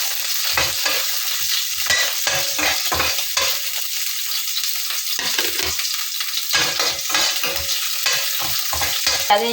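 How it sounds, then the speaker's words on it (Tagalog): Chicken frying in a pan with garlic and onion added, a loud continuous sizzle broken by rapid clattering spatula strokes, close and busy throughout. "Maglalagay na tayo ng bawang at saka sibuyas."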